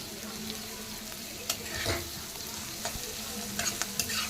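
Meal maker (soya chunk) curry with a knob of butter is stirred in a pan: a soft, fairly quiet sizzle broken by several scraping strokes of the spoon, with no talking.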